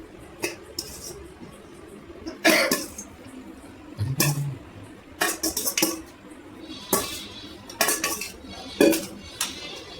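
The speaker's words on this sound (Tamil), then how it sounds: "எங்கள் அண்ணா லெமன் சோறு கிட்ட ஆரம்பிச்சாரு." A metal spoon scrapes and clinks in a pot of lemon rice being stirred, making scattered bursts of clatter with quiet gaps between them, close by. A brief cough or throat clear can be heard at one point.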